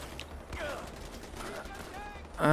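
Bursts of gunfire crackle during an outpost attack in Far Cry 4, rapid and fairly distant under a steady game soundscape, ending in a louder close sound.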